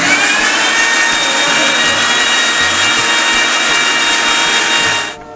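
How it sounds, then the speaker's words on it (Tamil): A mixer grinder runs at full speed grinding ingredients for a natural hair dye remedy, a loud, steady, high motor whine that holds for several seconds and then cuts off sharply as it is switched off. "இப்போ இதை நல்லா அரைச்சிக்கலாம். நல்லா நெகுன்னு அரைச்சிக்கணும்"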